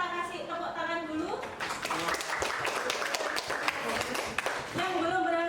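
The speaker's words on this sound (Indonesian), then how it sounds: "untuk yang sudah berhasil kita kasih tepuk tangan dulu" Classroom applause from a group of students bursts out for about three seconds of dense, close clapping, with speech before and after it.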